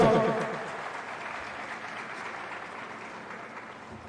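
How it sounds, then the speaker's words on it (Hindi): Applause from an audience at a government event with the chief minister present, a dense burst of clapping that starts loud and tapers to a softer, steady patter over a few seconds. "तालियों से विनम्र करें"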